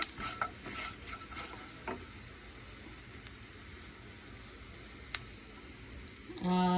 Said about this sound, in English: I'm going to put this on high flame, and the garlic needs to brown up properly